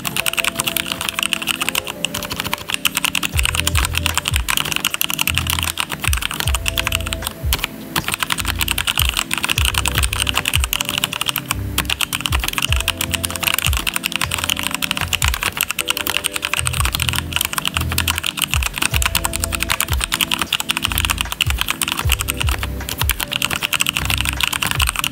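Continuous typing on a Mountain Everest Max mechanical keyboard, close and loud, with dense rapid keystrokes and no talking throughout.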